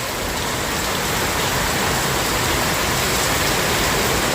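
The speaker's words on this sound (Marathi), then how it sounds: "खूप जोराचा पाऊस आला आहे बाहेर" Heavy rain pours down outside at night in a steady, dense roar of broadband hiss that stays loud and unbroken throughout, with no voices over it.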